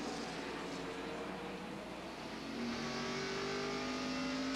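Morgan Shepherd's number 13 NASCAR race truck roars down the front straightaway at the 1997 Napa Autocare 200, a steady loud engine drone that rises in pitch toward the end, with no talking.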